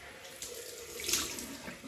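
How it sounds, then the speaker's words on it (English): Cold tap water runs steadily into a sink during a rinse in a wet shave, a continuous close splashing hiss that swells slightly near the middle of the short stretch, with no voices. "Cold water rinse."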